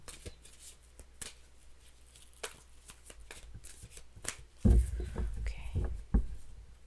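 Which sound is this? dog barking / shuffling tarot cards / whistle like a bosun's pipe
shuffling tarot cards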